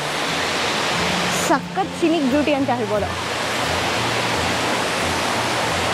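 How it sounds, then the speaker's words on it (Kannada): Hebbe Falls in Karnataka pours forcefully from a great height, a steady broadband roar of falling water that fills the whole clip while someone speaks briefly over it midway. "ಎಷ್ಟು ಹೈಟಿಂದ ಫಾಲ್ಸ್ ಬೀಳ್ತಿದೆ"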